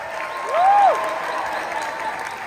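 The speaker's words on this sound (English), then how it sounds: "Give them a round of applause." A film-screening audience at the RRR screening breaks into sustained applause, dense even clapping with a brief rising whistle cutting through near the start.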